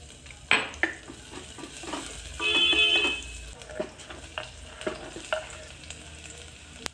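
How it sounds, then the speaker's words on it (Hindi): Hot oil crackles and sizzles as cumin seeds and bay leaves are dropped in, a brief louder hiss midway, plus occasional utensil clinks against a pan. "यहाँ पे ऑयल गरम करके जीरा और तेज पत्ते का तड़का ऐड कर दिया है"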